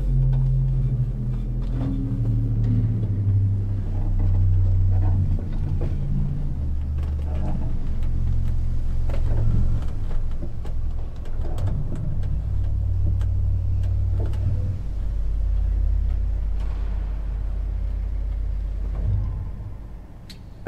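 A Rieger pipe organ in St. Katharinen church plays a slow descending scale of very deep bass notes, the lowest around 16 Hz, as sustained rumbling tones that fill the space steadily for about twenty seconds without speech.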